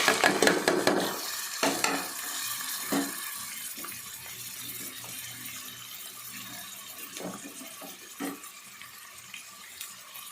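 Sliced onions with salt and turmeric fry in a pan for a brinjal, bean, drumstick and tomato curry, giving a steady close sizzle with occasional clinks of a stirring spoon, louder at the start.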